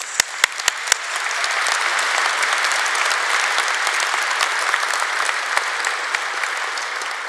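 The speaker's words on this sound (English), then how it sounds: "Let's do one more round of applause" Sustained applause from a graduation audience at a university ceremony, a few sharp isolated claps at the start swelling into a steady, dense wash of clapping that holds for several seconds.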